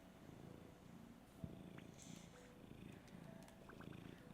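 A pet cat purring close to a microphone, a faint low rumbling purr with a soft knock and small scattered noises around it, no talking.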